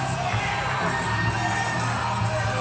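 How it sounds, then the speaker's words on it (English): Wrestling crowd cheering at the start of an opening contest, a loud, dense and continuous roar of shouts, whoops and yells filling the room without pause. "Crowd fired up here for this opening contest."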